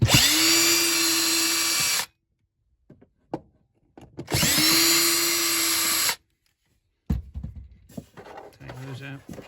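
Power drill driving out screws on a caravan's front box, two long steady whirring bursts, each about two seconds, separated by quiet handling clicks and knocks, with rustling and clatter at the end.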